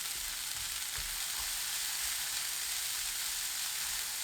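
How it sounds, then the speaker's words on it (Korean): Chamnamul stir-frying in a tablespoon of cooking oil with fine salt in a rectangular rolled-omelette pan over high heat, giving a steady close sizzle with occasional soft low bumps, no talking. "계란말이 팬에 식용유 1큰술, 참나물 80g, 고운 소금 2꼬집 넣고 센 불로 1분 볶아주세요"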